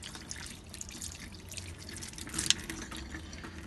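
Tap water runs steadily at close range over a hand being scrubbed clean of soil, with a soft continuous splash, dripping and a few brief sharper spatters.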